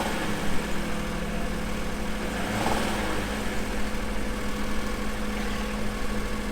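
An Acura NSX engine running with a metallic rattle, a steady close mechanical hum with a slight rise in revs partway through, heard alone without talk.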